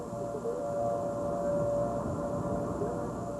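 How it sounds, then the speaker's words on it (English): Tornado warning sirens blare across the town of Moreland in northwest Oklahoma during a 1992 outbreak, a steady, continuous wailing tone holding at an even level throughout, heard from a distance. "The sirens blare in Moreland."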